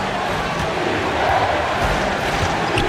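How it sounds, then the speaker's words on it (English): A frenzied arena crowd roars continuously in a basketball video game, loud and dense throughout with no break. "And the crowd now is in a frenzy."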